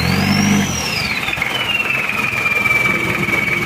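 Mitsubishi Pajero engine revved briefly at the start, a deep rumble that drops back to a steady idle, with a thin whine gliding down in pitch above it.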